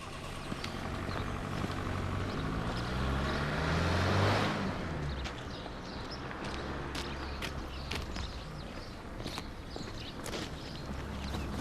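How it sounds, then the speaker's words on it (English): A car drives off out of a village, its engine swelling to a peak early on and then fading into the distance over steady background noise, with no talking. "I've just seen my car drive out the village"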